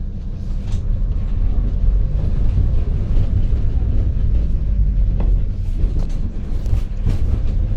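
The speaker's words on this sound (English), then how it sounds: "Okay, now we're driving." Car driving through a favela in Brazil, a loud, steady low engine and road rumble with wind buffeting and occasional knocks throughout.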